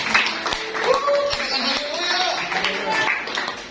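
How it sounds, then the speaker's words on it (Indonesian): A Sunday church congregation claps for God, scattered hand claps blending with singing or calling voices over a few seconds, moderately loud and close. "Tepuk tangan bagi Allah kita."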